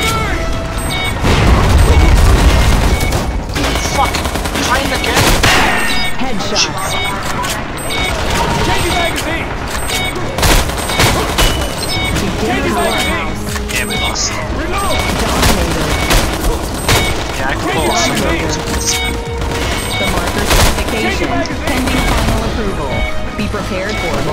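Dense gunfire and explosions from the online shooter Metro Conflict, with rapid bursts and heavy booms overlapping continuously and loudly for the whole stretch. Voices are faintly mixed in.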